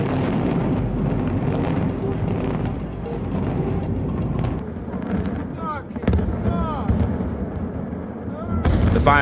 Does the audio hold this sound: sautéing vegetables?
no